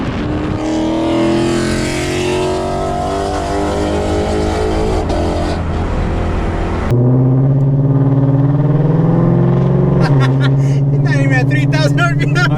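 A 2011 Lexus IS F engine drones and revs loudly and steadily throughout, with a sharp jump in pitch and level midway as the throttle opens, while someone talks over it.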